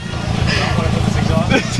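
A Subaru WRX fitted with a catback exhaust sends out a loud, steady low engine drone as it is revved, holding strong throughout with a slight swell near the end, while people talk over it.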